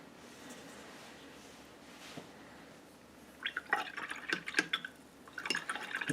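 A paint brush is rinsed in a water pot after applying gel medium, giving close splashy swishing and dripping that starts midway and continues in irregular bursts.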